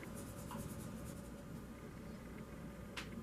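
A marker tip drawing lightly on paper for an Earth Day biome art project, a soft steady scratching that runs throughout, faint under a constant low room hum.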